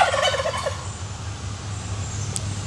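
A short burst of turkey gobbling at the start, warbling and quick, then fading into low background rumble.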